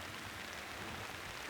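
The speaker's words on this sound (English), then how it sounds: "you probably can hear the rain" Rain falling outdoors at dawn on a cloudy Illinois morning, a faint, even hiss of drops with no distinct pattern and no voices.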